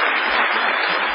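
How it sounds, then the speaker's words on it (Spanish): A theatre audience breaking into a warm ovation for a guest arriving on a stage show, dense, loud and continuous clapping throughout a short burst. "va a saludar ahora con una ovación inolvidable a Patricio Barton"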